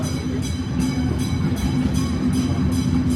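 An antique steam train rolls along rails in Frankfurt, a steady loud rumble with a regular clickety-clack of wheels over rail joints repeating about every half second, with no voices.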